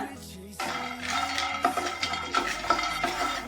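Peanuts stirred and roasting in a pan over a medium flame for semolina laddu, giving a steady scraping and rustling with light sizzle and occasional utensil clinks, close and continuous without talk.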